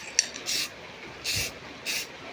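Spray paint hisses onto a metal bracket being repainted, three short bursts of bright hissing spray separated by brief pauses, close and clear.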